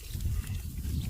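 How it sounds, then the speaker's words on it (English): A baby pig on a pig farm grunts low and close, in a steady, rough, rumbling run of snorts with no pauses and no voices over it. "Oh, look at the baby there. The baby pig."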